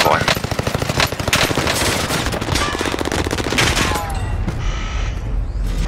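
Rapid bursts of video game gunfire crackle continuously, loud and close, with dense automatic fire and a few sharper single shots.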